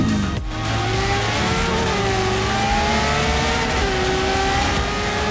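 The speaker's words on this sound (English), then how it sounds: "we got the Professor in a 1985 Honda CRX, and he is going up against the WCDC racing team in the Ferrari F50" A 1985 Honda CRX racing a Ferrari F50 on a speedway, one loud engine held high and revving steadily with shifting pitch, a short dip near the start, no talk over it.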